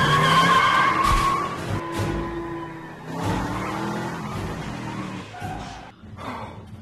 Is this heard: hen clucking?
no